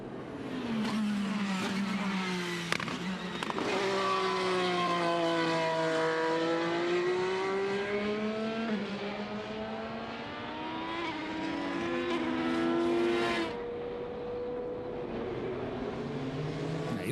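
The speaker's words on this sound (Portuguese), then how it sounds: "E os carros voltando para a pista." IndyCar race cars at Mid-Ohio during qualifying, engines roaring continuously as cars pass and rise and fall in pitch, loud and sustained with overlapping passes.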